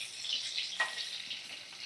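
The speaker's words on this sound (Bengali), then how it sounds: "এইভাবে ভাজা করে নিচ্ছি।" Meat and potatoes fry in oil that already holds plenty of turmeric and salt, giving a soft, steady sizzle with a faint scrape partway through.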